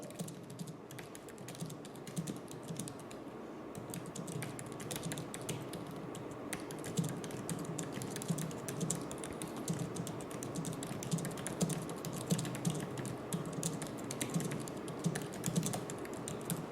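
Steady typing on a computer keyboard while editing a product name on a landing page, continuous fast key clicks running throughout at moderate level with no talking.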